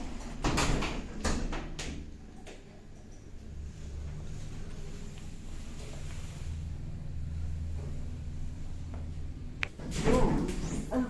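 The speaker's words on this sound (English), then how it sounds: "Please mind the door. Doors closing." Lift doors slide closed with soft rumbling motion under a low hum, preceded by faint clicks and an automated voice announcement, ending with a brief thump as the car starts moving.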